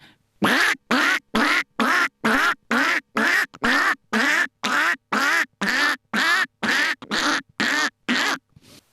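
A person imitates a duck, repeating loud nasal quacks about fifteen times in a steady, evenly spaced rhythm, close to the microphone.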